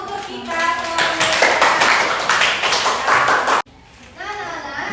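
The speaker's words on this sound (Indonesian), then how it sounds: "Tepuk tangan dulu untuk kita semuanya" A classroom of children clapping their hands, a dense burst of applause with children's voices over it, cutting off abruptly before chatter resumes.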